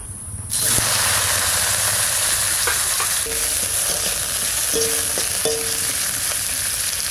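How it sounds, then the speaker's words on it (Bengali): Steady, close sizzling and crackling of garlic frying in hot oil in a wok, with a few faint clinks over the continuous hiss. "এবার রসুন ভাজবো, একটু তেল দেবো।"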